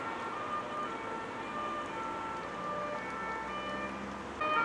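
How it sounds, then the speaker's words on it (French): An emergency siren wails somewhere outdoors, a steady tonal whine carried faintly over a continuous background hum for the whole stretch, with no voices. "Vous n'avez pas entendu la sirène"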